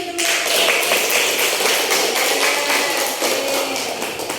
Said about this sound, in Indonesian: kita kasih tepuk tangan buat kita dulu.